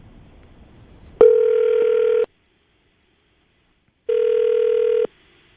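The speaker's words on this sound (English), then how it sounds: "we're going to call her right now, see if we can get her on the phone" Landline telephone dial tone on an outgoing call placed live from a morning radio show, a steady loud tone sounding for about a second, then a pause of silence, then a second identical tone.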